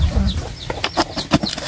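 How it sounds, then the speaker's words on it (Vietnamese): A hen at a family home clucks in short, irregular bursts, close by and fairly loud, with some wing-flapping or scuffling mixed in and no talking. "Thế là con gà con hả? Gà mình nó đẻ."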